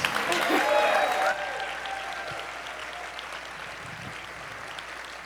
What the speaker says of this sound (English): Come on, let's give them a big round of applause.